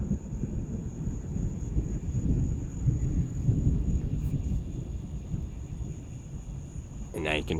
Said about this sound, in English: resultant thunder.